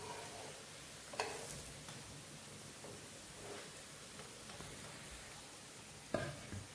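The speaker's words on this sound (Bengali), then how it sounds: "একটু উল্টে পাল্টে ভালো করে ভেজে নেওয়ার জন্য একটু সময় করে এটাকে ভেজে নিতে হবে।" Thalipeeth, a Maharashtrian multigrain flatbread, fries in a pan on the stove with a faint, steady sizzle and a few brief clinks of a spatula or pan, heard alone.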